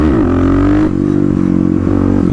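A Harley-Davidson Street Rod 750 engine revs hard as the rider pulls the front wheel up into a wheelie, a loud close rumbling roar that climbs in pitch and then pulses steadily as the throttle holds.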